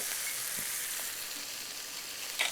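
Chicken pakoda varuval with tomato frying over a high flame, giving a steady broadband sizzle with faint stirring knocks, close and continuous with no voices.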